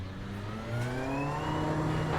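A race car engine in a racing video game sweeps past, its pitch rising then falling as it flies by over a steady engine drone, fairly quiet and with no voices.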